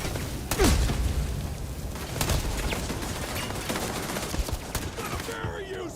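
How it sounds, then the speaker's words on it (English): Gunfire aimed at the player in the sci-fi game Starfield: bursts of sharp, loud shots crack over a dense roar of combat noise for several seconds. "Someone shooting me from up there"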